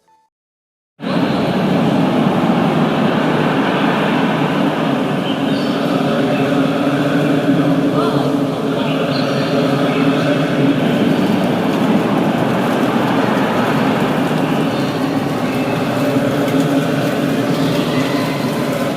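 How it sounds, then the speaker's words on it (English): A recording of the tsunami plays in a museum tunnel in Banda Aceh, a dense, continuous roaring rush that starts abruptly and holds loud and steady throughout. "Basically they're just showing the sounds that happened on the day of the tsunami."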